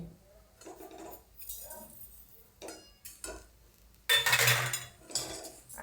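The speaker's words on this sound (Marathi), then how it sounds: "हे चांगलं परतून घेऊया साखर वितळूपर्यंत" Sweet potato semolina halwa with sugar being stirred in a pan: intermittent clinks and scrapes of a spoon against metal, close by, with a louder scraping burst near the end.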